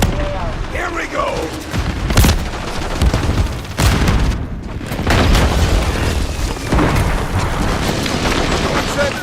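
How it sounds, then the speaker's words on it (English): Heavy booms and bursts of gunfire from a military shooter game airstrike, loud and continuous, with several sharp blasts rolling over a dense battle din as voices call out underneath. "Friendly airstrike in the AO."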